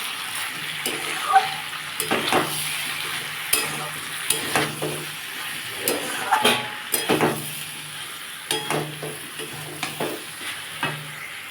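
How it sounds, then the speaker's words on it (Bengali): Watermelon rind is stir-fried in a pan with chili powder, cumin powder and turmeric, a steady close sizzle broken by repeated scraping strokes of the spatula against the pan. "হাফ চামচ লঙ্কা গুঁড়ো, পরিমাণ মতো হলুদ দিয়ে এটাকে আমি ভালো করে একটু কষবো।"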